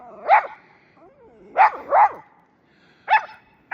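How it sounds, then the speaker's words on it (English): A dog barks outdoors during a heavy New York State snowstorm, giving about five sharp, mid-pitched barks at irregular intervals with quiet pauses between, fairly close and clear. "Neighbor is out walking his doggy too."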